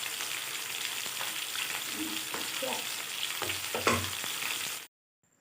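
Fish frying in mustard oil, a steady close crackling sizzle with scattered pops and a few soft clinks, continuous until it cuts out near the end.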